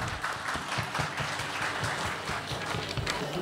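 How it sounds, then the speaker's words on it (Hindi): A hall audience at a Bihar and Jharkhand Diwas program breaks into loud, sustained applause to welcome Maulana Asadullah to the stage, dense clapping from many hands filling the room without letup. "सो ज़ोरदार तालियों से इस्तकबाल करें मौलाना असदुल्ला साहब"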